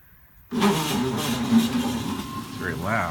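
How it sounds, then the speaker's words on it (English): A chain drive on a four-foot DIY CNC machine moves along its axis, a loud mechanical whirring that starts abruptly and runs steadily, with a few brief higher squeaks near the end. "let's give the chain drive a try"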